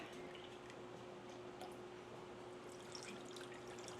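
Soy sauce, a full cup, poured steadily into a pot while making a no-bake Hawaiian potluck casserole; a continuous close liquid gurgle with no talking, over a low steady hum.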